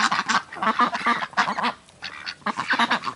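A drake duck's rasping quacks repeat in short bursts among chickens in a poultry yard, fairly close and clear, with no talk.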